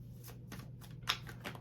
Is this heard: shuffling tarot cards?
yes